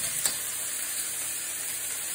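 Butter sizzles in a pan with pork sirloin, a steady, fairly loud hiss with one brief sharp pop near the start.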